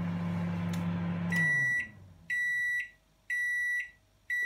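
A Sharp R664WM 20-litre microwave with grill ends its toasting cycle: the fan hum winds down, then three clear, evenly spaced electronic beeps sound close and alone.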